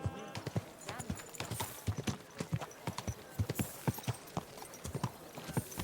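Horse hooves clip-clop in a steady rhythm on a hard surface in the video game Kingdom Come: Deliverance II, with faint voices murmuring in the background.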